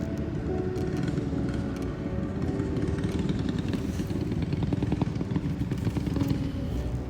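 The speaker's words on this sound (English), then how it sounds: "there's someone on a motorcycle" A motorcycle rolls by outdoors, its steady engine rumble and clattering mechanical noise holding at moderate loudness for several seconds with no pause.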